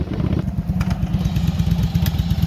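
Cruiser motorcycle converted into an adventure bike riding off-road: a near, loud engine chugging in a fast, even low throb with a few clattering knocks and no voices.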